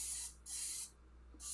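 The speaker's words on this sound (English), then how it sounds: "I'm gonna spray this lower part one more time" Three quick bursts of hissing spray from a trigger bottle of Dawn Powerwash onto a dirty oven, close and crisp, with short quiet gaps between them.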